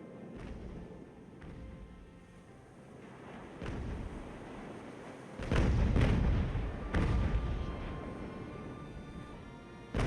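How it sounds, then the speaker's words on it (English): Cannon volleys roar out in the Ultimate Admiral: Age of Sail naval game, a rumbling low barrage of several booms with heavy bursts clustered in the middle and a further blast near the end, set against a steady battle din. "get those volleys on"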